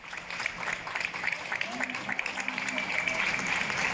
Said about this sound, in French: les gens commencent à applaudir les médecins au balcon, aux fenêtres, comme tous les soirs